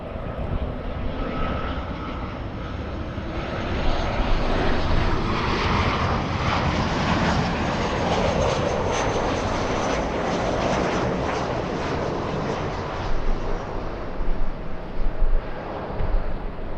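Southwest Boeing 737-700 jet airliner arriving at LAX from Sacramento, a loud, broad engine roar that holds steady for the whole stretch with some wind buffeting, no talk.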